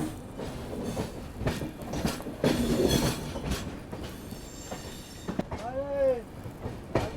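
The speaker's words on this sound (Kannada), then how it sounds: "ದುರ್ಗ ವಿಶಾಖಪಟ್ಟಣಂ ಈಗ ಬಂತು ನೋಡ್ರಿ" The Durg–Visakhapatnam train rushes past on the adjacent track, heard from aboard a moving express: a loud, continuous rumble and clatter of wheels, with a brief metallic squeal near the end.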